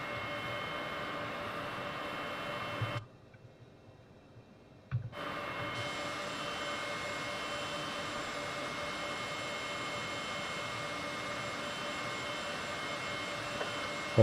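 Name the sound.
Heinkel He 162 jet engine spooling up, Flight Simulator 2020 video game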